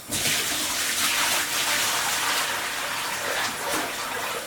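Water gushes steadily into a homebrew vessel, a loud continuous rushing splash that keeps going without a break.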